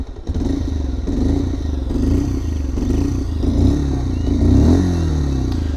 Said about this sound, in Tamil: இன்ஜின் சவுண்டு வந்து கேட்டு, அதாவது சைலண்ட் எக்ஸாஸ்டோட சவுண்டு வந்து ஃபஸ்ட்டு கேட்டுருவோம்.